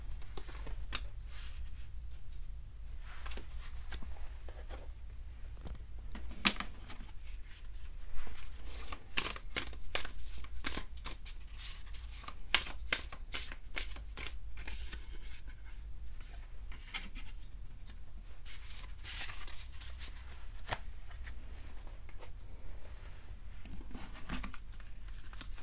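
A deck of oracle cards being shuffled up close, with soft, quiet riffles and flicks coming in bursts and scattered taps, faint and alone with no talk.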